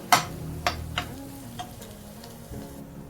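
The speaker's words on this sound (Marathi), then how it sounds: "सात आठ पाकळ्या ओबडधोबड ठेसून घेतल्या होत्या त्या टाकत आहे याला आपल्याला एकाच मिनिट परतून घ्यायचं आहे" Seven or eight coarsely crushed garlic cloves drop into a hot pan and are stirred, giving a few sharp clinks and taps over a soft, steady sizzle, close by.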